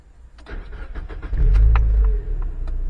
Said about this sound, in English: So I'm just going to turn the engine off, bring the engine back up.